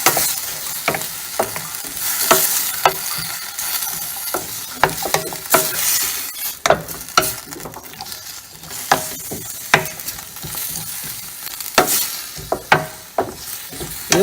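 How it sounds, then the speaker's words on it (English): Couscous being stirred in a big frying pan, giving a continuous gentle sizzle broken by frequent sharp scraping and clinking strokes of the spoon against the pan, close and without talk. "and then you continue to stir."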